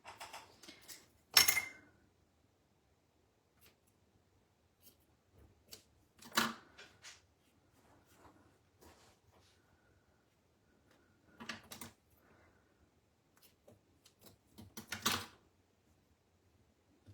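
Scissors snip paper for a mixed media craft in a quiet room, a few short, sharp crisp cuts spaced apart, with light handling clicks between them.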